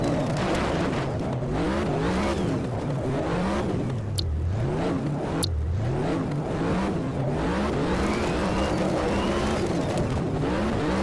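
NASCAR stock car on a qualifying lap in the racing game Automobilista 2, engine roaring loud and constant, revving up and down through rapid shifts with a couple of sharp high bursts.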